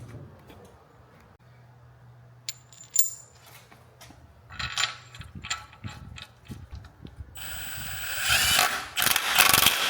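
Ratchet clicks and metallic mechanical rattling while turning the crankshaft of a Nissan 370Z engine during a refresh, a quiet start building to louder, dense clattering near the end; no talk.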